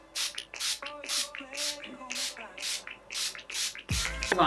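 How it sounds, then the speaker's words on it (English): Rapid pumps of Urban Decay All Nighter Pollution Protection makeup setting spray hiss in a regular rhythm, about a dozen short bursts close by, with faint voice-like tones underneath. "I'm gonna use the Urban Decay All Nighter Pollution Protection spray."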